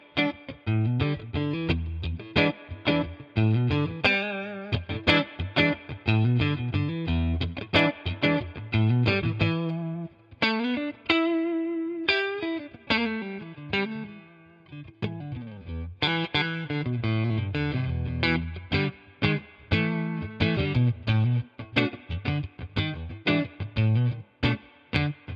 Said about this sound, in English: I grabbed this Novo Idris, a fantastic 3 single coil style guitar